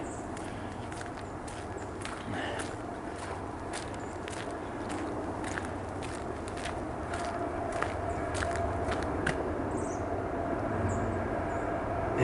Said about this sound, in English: Wow, that train took a long time to get here.